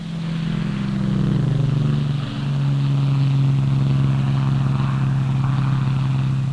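A Supermarine Spitfire fighter aircraft from the mid-1930s flies by with a steady, loud propeller engine drone that holds throughout with a slight dip midway, and no talk over it.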